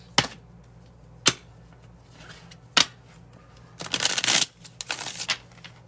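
Tarot cards being shuffled during a reading, heard as three sharp, separate snaps followed by a dense riffling burst and a few trailing flicks, close and fairly quiet over a low steady hum, with no talking.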